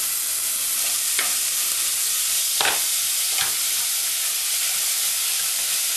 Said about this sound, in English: Again, stir it for 1 or 2 minutes. Now you can see that the rice is fried.